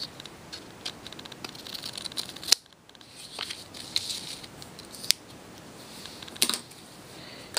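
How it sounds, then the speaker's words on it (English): Scissors cut through card paper in a string of crisp snips, with a few sharper clicks spaced a couple of seconds apart. The cutting is close and fairly quiet, and no one speaks. "And we're gonna be cutting."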